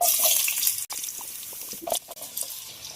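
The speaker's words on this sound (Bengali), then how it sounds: "আলুগুলো আগে ভেজে নেব। তো ভাজার জন্য দিয়ে দিলাম।" Small potato pieces fry in hot oil for a Kerala-style chicken fry, with a steady loud hiss and sizzle and scattered crackles and pops, close by, with no talking.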